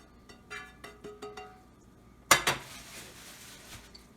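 Metal utensil scraping and clanking against a pan while eggs and ham are mixed into chicken fried rice, a run of rhythmic taps followed by two louder knocks and a soft sizzle beneath.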